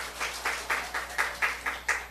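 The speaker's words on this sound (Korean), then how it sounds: "그렇게 하실 하나님께 박수 올려드립니다" A church congregation applauding in a rhythmic unison clap, about eight regular beats at a steady pace, moderately loud and heard without speech.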